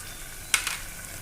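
Spices for a spicy Kolhapuri-style chicken curry fry in hot oil, a soft steady sizzle broken by a couple of quick sharp scraping stirs close by.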